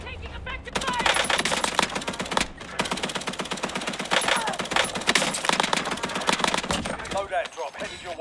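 Sustained automatic gunfire from Call of Duty Warzone hammers in rapid, loud bursts for several seconds, a dense rattling stream with brief gaps, while in-game voice lines sound over it.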